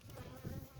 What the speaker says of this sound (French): Les abeilles sont pas contentes du tout.